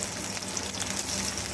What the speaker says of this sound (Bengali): তেলটা অনেকক্ষণ গরম করে আমি কুচিয়ে রাখা পেঁয়াজগুলোকে এর মধ্যে দিয়ে দিলাম